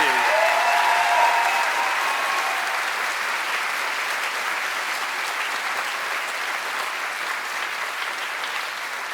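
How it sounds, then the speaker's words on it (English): A large audience applauds a graduating high school class of 2022 at a senior ceremony, steady dense clapping held loud throughout and easing only slightly toward the end, with a brief voice at the very start. "May we have a round of applause for the Scholars Academy class of 2022."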